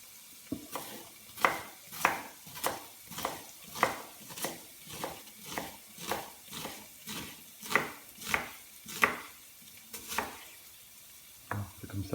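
A knife chops an onion on a cutting board in a steady run of about twenty crisp, evenly spaced taps, close and clear, pausing briefly near the end before a final couple of cuts, with no talking.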